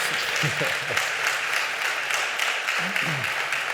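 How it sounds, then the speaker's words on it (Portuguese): Seminar audience applauding after a panel presentation, a steady dense wash of many hands clapping throughout, with a few faint voices mixed in beneath. "É uma salva de palmas para ele, sim senhor."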